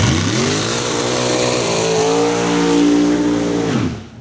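A loud race car nicknamed Freddy Krueger roars past on a racetrack, its engine note sustained and shifting pitch as it passes close by, then cutting off abruptly at the end.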